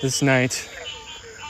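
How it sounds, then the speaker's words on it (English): A chorus of frogs and insects drifts from a swamp pond on a night walk. It hums faintly and steadily behind a man's brief spoken words. "I have a chorus of frogs and bugs from the swamp pond area accompanying me on my night walk"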